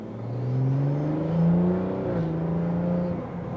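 BMW 340i with a Stage 2/3 XHP transmission map in Sport Plus mode accelerating up an on-ramp, a steady close engine drone rising in pitch with quick shift breaks, loud and continuous without talk.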